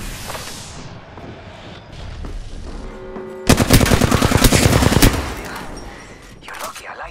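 Rapid automatic gunfire crackles in an Apex Legends match. A loud, dense burst lasts around a second and a half, surrounded by game ambience and a voice speaking.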